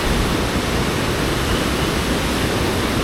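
Water pours out of the Iranaimadu reservoir in Kilinochchi, a loud, unbroken roaring rush with no other sounds.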